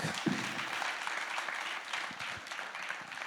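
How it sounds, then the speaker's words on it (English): A crowd at an in-person talk event claps in a brief, even round of applause, fairly soft and continuous throughout. "how about round of applause for in-person events?"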